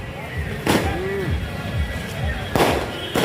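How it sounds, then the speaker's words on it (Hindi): Firecrackers bursting at an outdoor anti-drug rally in a town square, two sharp loud cracks about two seconds apart over crowd murmur and a distant vehicle horn. "यहाँ पटाखे बज रहे हैं।"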